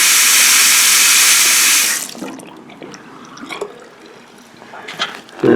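Hot water runs loudly from a Peerless bathroom faucet for about two seconds, then the tap is shut off, leaving quieter drips and handling noises.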